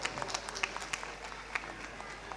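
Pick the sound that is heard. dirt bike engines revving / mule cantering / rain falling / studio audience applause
studio audience applause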